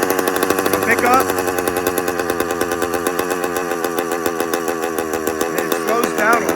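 A 100cc motorized bicycle engine runs close by with a rapid, buzzy, steady pulse whose revs rise and dip slightly over several seconds.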